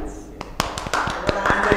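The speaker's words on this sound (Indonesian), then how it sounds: "Tepuk tangan sih." Brief applause breaks out for a local football coach, a quick scatter of close claps that starts abruptly and runs under talking voices.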